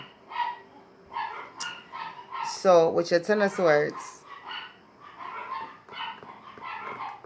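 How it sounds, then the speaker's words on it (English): Dogs barking and yipping in the background of an indoor tarot reading, a burst of sharp barks in the middle with some whimpering, mixed under a woman's ongoing speech. "Excuse the dogs in the background."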